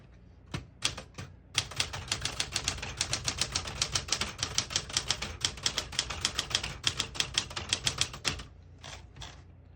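Rapid mechanical clacks of a 1975 Smith-Corona Galaxie Twelve manual typewriter striking keys in a quick, uneven rhythm, close and crisp, with brief pauses at the start and end.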